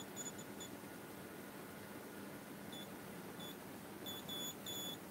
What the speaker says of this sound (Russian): Так вот у меня пикает.